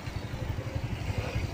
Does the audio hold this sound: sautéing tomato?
no